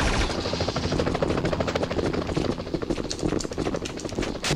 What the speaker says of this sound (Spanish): Y ese fue el helicóptero.